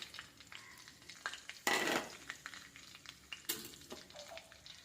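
Panch phoron spices hit hot oil with a soft, close crackling sizzle, two sudden louder bursts of spitting, and light clinks and stirring scrapes in between, with no talking.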